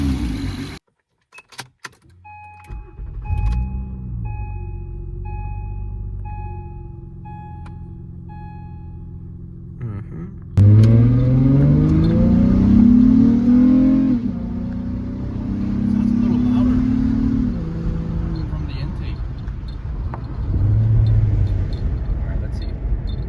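An Acura RL car engine, fitted with a throttle body spacer, starts and idles with a low hum, then revs up, the pitch climbing and falling before settling back to idle.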